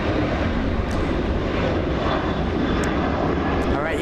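A Qatar Airways heavy jet arriving from Doha at LAX, a loud, dense, continuous engine roar filling the whole stretch, with talk faintly mixed in.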